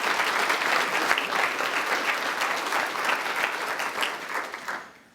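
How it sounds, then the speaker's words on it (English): Sustained applause from a seated audience for service members at an economic development luncheon, steady and dense clapping that holds for several seconds before tapering off near the end. "So let's give them a round of applause for their service."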